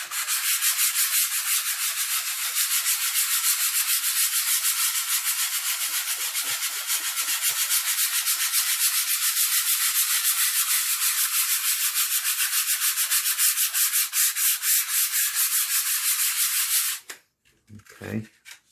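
Sandpaper rubs back and forth over a wood surface being smoothed for image transfer, a close, continuous rasping hiss with rapid strokes that stops abruptly near the end, followed by a brief soft sound.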